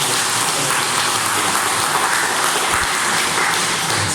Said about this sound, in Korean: 우리 다 같이 힘차게 박수 치면서